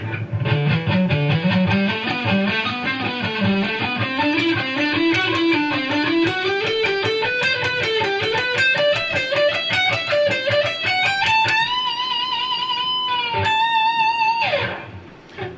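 An electric guitar plays a fast alternate-picked solo run, notes climbing steadily in pitch in a continuous stream before ending on a few sustained high notes and cutting off.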